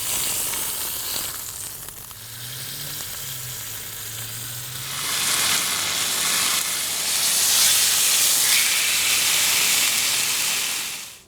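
A smoked tomahawk prime rib sears in hot beef tallow with a loud, close, steady sizzle and hiss. The frying swells louder midway and stays strong before cutting off, with no talking.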